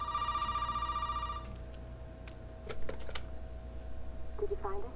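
A telephone rings in Resident Evil 7: a steady electronic ring for the first second and a half, then stops, leaving a low room hum with scattered clicks and faint voices.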